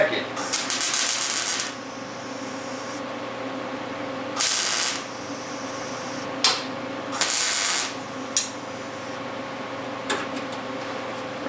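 Tack welding on a Ford Bronco II project, outdoors in the cold, heard as several short bursts of crackling arc, each a second or two long, separated by quiet gaps.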